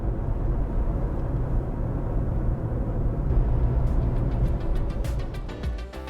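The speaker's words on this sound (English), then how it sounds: "hit the accelerator harder and the internal combustion will kick in" A Mercedes-AMG C 63 S E Performance hybrid's combustion engine kicks in under harder acceleration, a steady low engine drone and road roar building in the cabin, with ticking clicks near the end.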